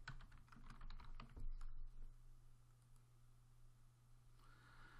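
Quiet typing on a computer keyboard while editing a website's navigation in a web dashboard, a quick run of clicky keystrokes in the first two seconds, then faint steady background hum.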